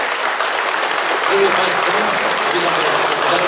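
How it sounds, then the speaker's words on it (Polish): Loud, dense applause from a crowd in a shopping gallery greeting the gallery director at a sports club presentation, with a brief voice speaking over it. "Wielkie brawa"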